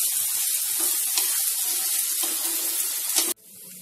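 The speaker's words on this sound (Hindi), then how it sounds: "पहले कम से कम 5-6 मिनट कुंदरू को इसी तरह से हम थोड़ा सा इसमें भूनेंगे" Kundru (ivy gourd) sizzles steadily while frying in a pan for a spicy dry sabzi with onion and potato. The loud, even hiss runs for a few seconds, then cuts off abruptly.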